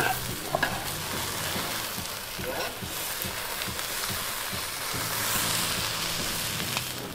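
Cheese frying on a camp griddle for birria tacos gives a steady close sizzle that runs the whole time, with light scraping and tong clicks and people talking over it.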